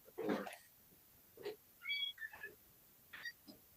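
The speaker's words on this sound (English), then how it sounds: "I'm going to let my cat in." A pet cat meows repeatedly at a door, wanting to be let back in: several short, fairly close calls spaced irregularly, some rising and drawn out, with no talk over them.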